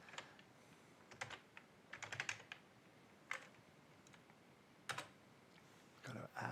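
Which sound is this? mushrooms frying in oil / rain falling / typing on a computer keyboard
typing on a computer keyboard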